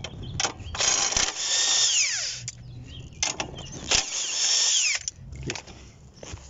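A power tool with a 16 mm socket spins off the suspension nuts on a Volkswagen Gol, running in several whirring bursts with rising and falling pitch, close and loud, with brief gaps between pulls.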